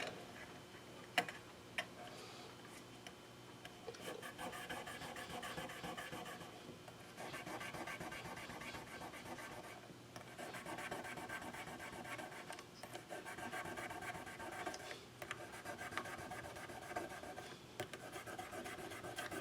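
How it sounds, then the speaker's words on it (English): Fine 1000 grit sandpaper rubbed back and forth over guitar frets makes a steady, quiet, close rasping with regular strokes that runs uninterrupted for the whole stretch, with no voices. "And with a little 1000 grit sandpaper, and you can see I've already used this one a couple of times, we're just going to hit these frets like this."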